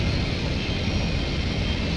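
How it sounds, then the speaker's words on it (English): Helicopter rotor and engine roar in the Fortnite video game, a steady loud broadband whir filling the clip without any voices. "Oh, chopper's here."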